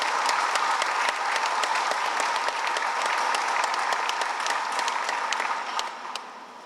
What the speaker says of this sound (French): je vous demande d'applaudir le Président de la République